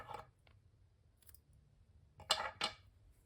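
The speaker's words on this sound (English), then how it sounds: "and then trim off the ends" Scissors trim yarn ends on a crocheted Christmas tree piece. A few faint clicks come first in a quiet room, then two crisp snips close together near the end.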